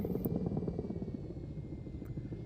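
A transport helicopter in the Forefront VR game gives a continuous low rotor thump, steady and fairly loud, with a faint high whine above it and no voices.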